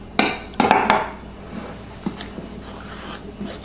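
A fork scraping and clinking against a bowl while mixing dough ingredients, a few sharp metallic knocks near the start followed by softer rubbing and occasional taps.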